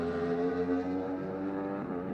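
A Norton superbike engine holds a steady, close, loud drone with harmonic tones at the start line of a Superbike TT race, sustained revs with slight dips near the end.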